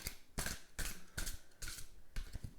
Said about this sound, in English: I am now shuffling the cards